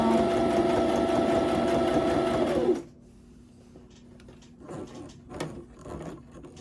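A sewing machine back stitches down the middle of a fabric strip, running in a fast, steady whir for under three seconds before stopping. A few soft clicks and handling noises follow.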